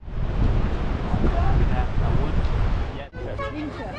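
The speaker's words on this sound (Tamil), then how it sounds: "காற்று பலமாக அடிக்குது." Strong wind buffets the microphone along the Alexandria seafront in Egypt, a loud continuous roar with the sea close by, briefly dipping near the end.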